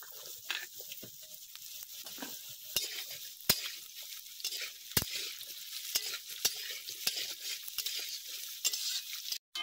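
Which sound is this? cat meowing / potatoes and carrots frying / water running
potatoes and carrots frying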